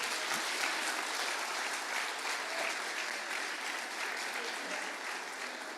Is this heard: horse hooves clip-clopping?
no